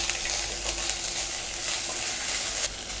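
Ginger garlic paste frying in a pan while making South Indian mushroom gravy, a steady close sizzle with occasional stirring scrapes and no voices.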